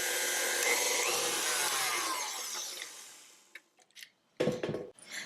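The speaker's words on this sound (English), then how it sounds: "So I'm going to add in my icing sugar and continue whipping until stiff peaks form." An electric mixer whips cream with icing sugar toward stiff peaks, a steady loud whirring for about three seconds that winds down, followed by a few clattering knocks and scrapes of the bowl.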